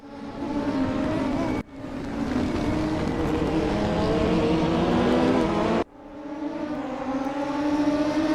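DTM touring race cars from the 2020 series screaming past at full speed on a circuit, a continuous loud engine roar with sharp breaks where the camera cuts, no voices over it.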